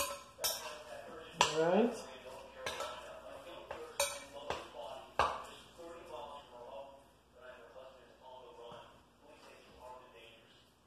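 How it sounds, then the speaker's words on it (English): A spoon clinks and scrapes against a bowl while turkey meatball ingredients are blended together, producing sharp, irregular knocks that fade into softer stirring, with a person talking over much of it. "Blend it all together with your spoon to get all ingredients mixed in your bowl."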